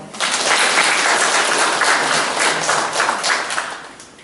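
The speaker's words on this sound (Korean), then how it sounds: "많이 좀 박수도 쳐주시고 호응도 해주시면 고맙겠습니다" An audience at a residents' meeting of an apartment-complex association claps steadily and fairly close, then the applause gradually thins and fades toward the end.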